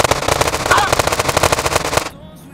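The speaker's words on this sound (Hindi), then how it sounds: "ये खड़े ले छगन के फंटर लोग, अपुन इन सबको उड़ा डालेगा" Rapid, loud machine gun fire rattles in a continuous burst in the mobile game Indian Bike Driving 3D, then cuts off abruptly into near-silence.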